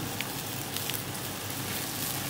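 Chicken frying in a pan over high flame while Pad Thai noodles are cooked at home, giving a steady, close hissing sizzle with faint crackles and no talk.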